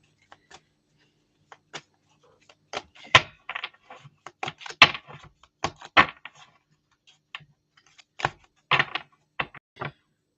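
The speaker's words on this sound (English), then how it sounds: "these cards are huge compared to my hands, so I am having a hard time shuffling." Oversized tarot cards are shuffled by hand, with close, irregular bursts of crisp papery snaps and flicks separated by short pauses and no talking.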